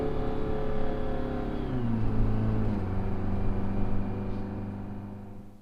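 A Detroit 4-53 turbo diesel engine runs with no muffler, a loud, raw, steady mechanical drone that drops in pitch partway through as it settles from higher revs to a lower idle, close and continuous throughout.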